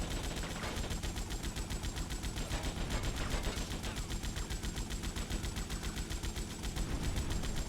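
Rapid, sustained gunfire from GTA Vice City crackles in a steady stream of close, loud shots, a dense rattling barrage that runs on without a break.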